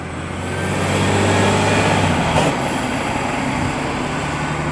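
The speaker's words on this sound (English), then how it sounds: "It was a bus fart." A city bus on a street in Saint-Lambert, Quebec lets out an air brake hiss, a broad steady rush that swells after the low engine rumble fades, heard nearby amid traffic noise.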